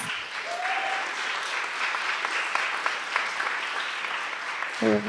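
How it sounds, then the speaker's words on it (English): A festival opening-ceremony audience gives a sustained, fairly loud round of applause that holds steady for several seconds, with a brief voice near the end. "give her a giant round of applause"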